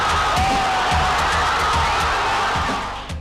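Cruzeiro football supporters roar in a stadium, a dense sustained crowd din with whistles and rising shouts, loud and steady throughout before easing slightly at the end.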